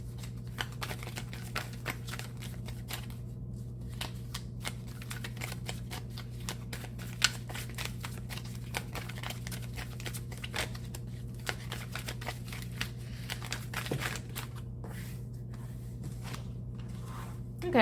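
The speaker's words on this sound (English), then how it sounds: "move these cards out of the way and shuffle up the deck." Soft, rapid riffling and clicking of a tarot deck being shuffled over and over, faint and close, over a low steady hum.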